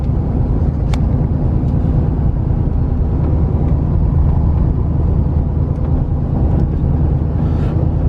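A truck drives along with a steady, loud road rumble and engine drone that holds throughout, with no talking.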